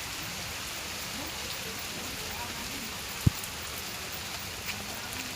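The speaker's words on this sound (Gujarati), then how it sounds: "જો ધીમો ધીમો વરસાદ ચાલુ છે." Light rain falling outdoors, a soft, steady hiss of drizzle with one brief knock partway through.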